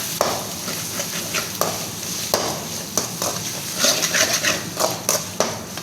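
Tomatoes sautéing in a pan, a steady sizzle broken by repeated scrapes and clinks of a spoon stirring against the metal, close and fairly loud.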